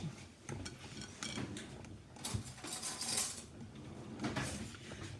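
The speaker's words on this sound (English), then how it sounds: "Let me get a spoon." A big spoon pulled from a jumble of cutlery in a kitchen while making custard: clattering, jingling metal utensils shuffled together in short bursts, close by, without any talking.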